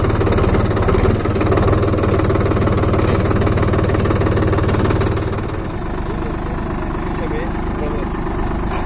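A Solis 5024S 4WD 50 HP tractor pulls a rigid cultivator in medium first gear at about 1500 RPM. Its engine makes a loud, close, continuous drone that eases slightly partway through, with a voice talking over it.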